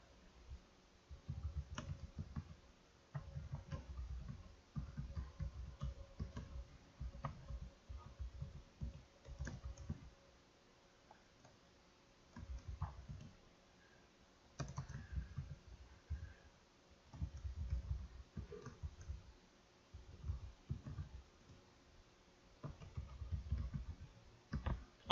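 Steady keyboard typing in quiet bursts, clicks pattering in irregular runs with brief pauses between them, close and faint.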